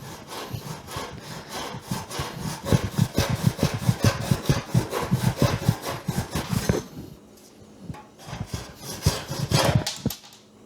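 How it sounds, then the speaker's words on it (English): An antique hand saw over 125 years old rasps through a scrap of gnarly, twisted-grain live oak hardwood in quick, steady back-and-forth strokes, close and loud, with a brief pause before a few final strokes. "let's cut some hardwood. Here's a scrap of live oak with some gnarly twisting grain in it."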